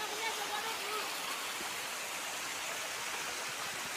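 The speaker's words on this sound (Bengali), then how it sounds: "ঝর্ণা যেটা বলে কি ঝর্ণা এই দেখেন ঝর্ণা" A waterfall gives a soft, steady rushing hiss that holds evenly throughout, with voices faintly present near the start.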